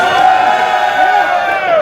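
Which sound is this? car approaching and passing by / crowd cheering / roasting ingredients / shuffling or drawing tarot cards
crowd cheering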